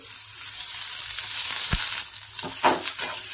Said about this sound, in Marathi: कांदा आहे ना आपल्याला चांगला भाजून घ्यायचा आहे